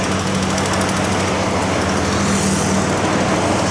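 Drilling rig boring for bridge columns at a construction site in Borneo, a loud, continuous mechanical grind and engine drone that stays steady throughout, with no voices.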